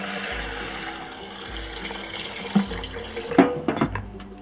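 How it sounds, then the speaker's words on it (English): Cantonese chicken and pork bone stock is strained from a covered stock pot into a container, a steady close pour of liquid with a few clinks and splashes near the end. "All I'm doing is keeping the cover on and straining it into a container."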